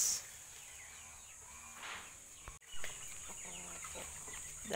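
Broiler chickens on a farm cluck softly in short bursts against steady background hiss, with a brief thump midway during morning feeding; no talking.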